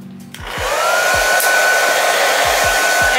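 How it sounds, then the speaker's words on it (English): A hair dryer on the cool setting blowing over a water wave wig, starting up with a click and then a loud, steady close whir with a faint high whine, with no talk. "And I'm gonna dry it on cool heat."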